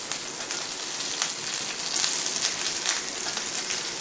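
Vegetables and capsicum fry in a pan for sambar, a steady close hiss and crackle of sizzling oil with no talking.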